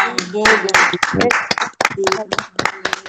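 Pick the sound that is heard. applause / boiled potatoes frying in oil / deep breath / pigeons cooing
applause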